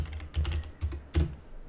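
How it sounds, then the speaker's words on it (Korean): Computer keyboard typing into a plain text editor: three loose bursts of key clicks spaced across under two seconds, close and fairly quiet, with no voice over them. "여태까지 내가 지금 방금 메모장에다가 키보드를 쳤잖아요."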